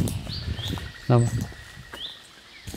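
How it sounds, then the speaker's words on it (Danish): An unidentified bird calls outdoors, giving a few short, rising chirps spread across the moment, moderately distant, mixed with faint rustling and a brief low murmur. "Hvad fanden det er for en fugl, der siger sådan der?"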